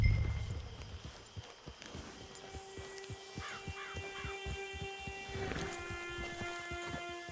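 Horse hooves clip-clopping at a steady walking rhythm in the open-world western game Red Dead Redemption 2, moderately close, with a soft musical hum and distant tones behind.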